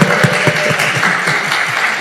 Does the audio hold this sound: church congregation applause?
yes